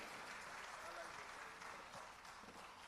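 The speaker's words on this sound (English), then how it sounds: "Please keep clapping for them." A conference audience applauds Team Zimbabwe as the team leaves the stage after a pitch presentation, a steady wash of clapping from many hands that keeps going throughout without letting up.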